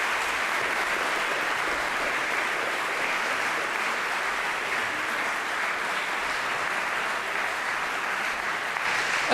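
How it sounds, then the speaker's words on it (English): A continuous round of applause from an audience at an on-stage conversation event, a dense, even wash of clapping held at a steady moderate level throughout with no voices. "Everybody, give him a round of applause."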